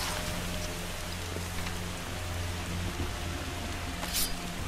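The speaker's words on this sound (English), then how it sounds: "Oh, it's raining. It's a rainy day." Steady rain falling in Far Cry 2, a continuous broadband hiss with low engine-like hum beneath, moderately loud and unbroken throughout, with a brief brighter burst near the end.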